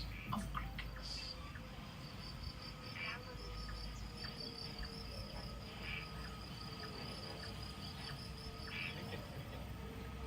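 A thick chorus of crickets trills steadily in a forest at night, with a high pulsing whine over a low continuous hum and a few scattered faint chirps, with no voices.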